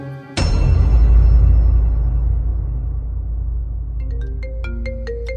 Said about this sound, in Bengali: রিংটোনের সুরেলা শব্দে তন্দ্রা ভেঙে যেতে